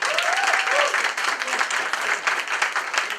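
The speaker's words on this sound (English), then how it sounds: "Let's give a round of applause for Dr." A round of audience applause for Dr. Duncan at a Board of Education meeting, steady and fairly loud crowd clapping throughout, with faint voices mixed in.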